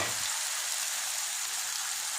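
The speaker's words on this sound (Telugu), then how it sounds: "ఇలా మిల్ మేకర్ వేయించుకోవాలి." Meal maker soy chunks and paneer fry in a spoonful of oil in a pan, giving a steady, dense sizzle heard close up throughout, with no talking.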